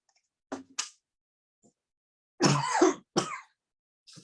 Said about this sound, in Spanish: A veces se me sale la tosecita